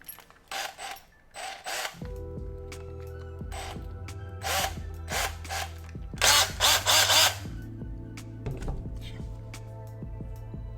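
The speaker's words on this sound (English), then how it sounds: "I'm gonna take the drill, go with the smallest one, the 1/8 bit right here" Power drill fitted with a 1/8 bit spinning up and biting into a part in several short bursts, with a steady motor hum between and rattling whirs, close and fairly quiet.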